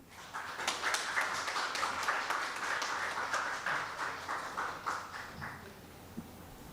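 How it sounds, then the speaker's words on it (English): An audience claps steadily at an oncology conference in honour of an invited speaker, a dense moderate patter lasting several seconds before thinning out toward the end. "A round of applause, please."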